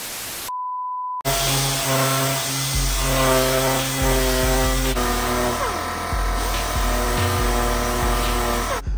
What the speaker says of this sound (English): let's go ahead and sand these guys out so we can see what's going on with my baby, the Silverado